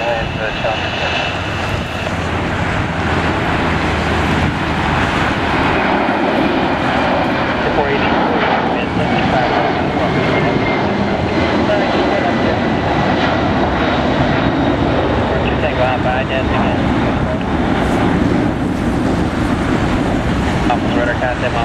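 Jet airliner engines at Los Angeles International Airport roar steadily and loudly throughout, with a broad continuous rumble and whine, while speech is also picked up beneath the engine noise.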